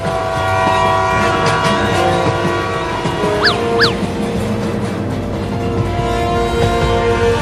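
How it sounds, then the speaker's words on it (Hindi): Cartoon train rolling along with steady rumble and rail clatter, a couple of short whistle-like horn toots near the middle, continuous and fairly loud with no talk. "देख ट्रेन धीरा हो रहा है"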